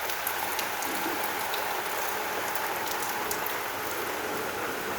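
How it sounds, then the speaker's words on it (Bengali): Monsoon rain falls outside at night as a constant, even hiss of drops on surfaces, fairly faint and steady without pause, with no talking. "বাইরে বৃষ্টি হচ্ছে"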